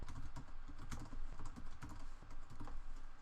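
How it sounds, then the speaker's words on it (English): Rapid, uneven clatter of keys being typed on a computer keyboard while entering website addresses into a worksheet, close and steady with no talking. "So I'm just going to type in a couple of examples."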